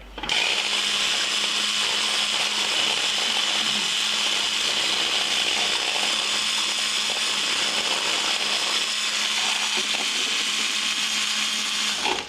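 Electric hand mixer beating egg whites with a pinch of salt for meringue, a loud, steady high whir with a constant motor hum running unbroken for the whole stretch, no talk.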